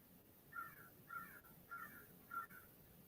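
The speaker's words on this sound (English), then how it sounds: "I hear some bird in the background squawking over it." A crow caws outside a window, four harsh calls spaced evenly about half a second apart, moderately close over quiet background hiss.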